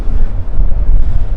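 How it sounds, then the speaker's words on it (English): Strong wind buffets the microphone while riding a Benelli TRK 702 adventure tourer on a windy day, a constant loud low rumble gusting throughout. "It's quite a windy day"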